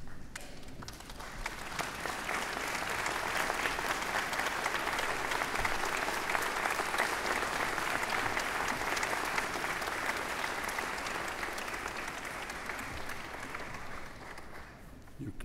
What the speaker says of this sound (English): I would ask you to stand and acknowledge them with a round of applause